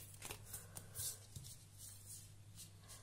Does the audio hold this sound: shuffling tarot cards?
yes